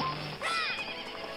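A horse in the video game Majora's Mask 3D whinnies once, a bright quavering neigh rising and falling over a low background hum, fairly close and clear.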